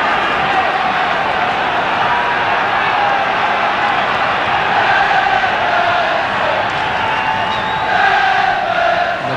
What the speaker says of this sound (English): Goodison Park crowd now trying to raise their side.